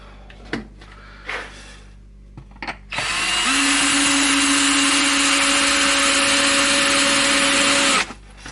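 A power drill whirs loudly for about five seconds as it drives a screw into foam insulation on an ultrasonic cleaner, its pitch rising as it spins up, after a few faint handling clicks.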